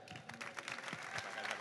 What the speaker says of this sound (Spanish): o sea que el aplauso es para él.